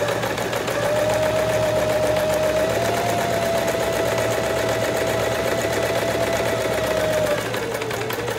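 A Singer electric sewing machine stitching steadily with its tension dial turned up high to 9, a continuous close mechanical whir with a fast even needle rhythm that runs for several seconds and then stops.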